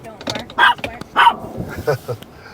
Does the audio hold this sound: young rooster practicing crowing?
no